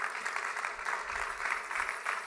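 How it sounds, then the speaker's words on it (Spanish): A church congregation claps hands together during a Sunday evening bilingual service, a steady, dense round of applause with a slight rhythmic pulse, continuous and fairly close throughout. "Clap your hands to the Lord."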